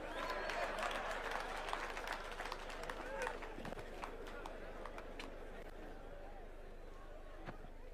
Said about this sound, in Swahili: Sa tumpigie makofi tena.